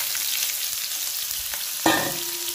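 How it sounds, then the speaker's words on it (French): Onions frying and browning in a pan, a steady bright sizzle with a sharper stir or scrape near the end. "Ça fait 5 minutes que les oignons aussi sont en train de dorer"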